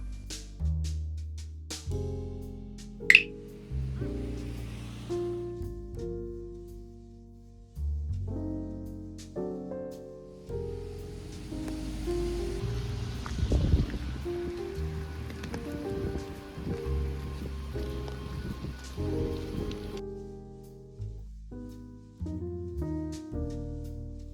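Heavy rain falling in Kamakura, Japan, a steady hiss of rain that swells through the middle, heard beneath soft tonal music.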